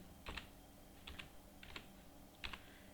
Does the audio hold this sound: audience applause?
no